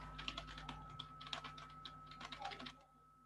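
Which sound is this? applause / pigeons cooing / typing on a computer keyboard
typing on a computer keyboard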